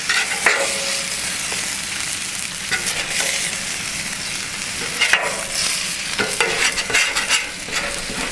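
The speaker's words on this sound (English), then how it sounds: "I'm going to take these scallops here, and we're just going to put these right in the pan" Scallops sizzling in a pan on a Blackstone griddle, a loud, continuous close hiss with scraping and stirring clatter.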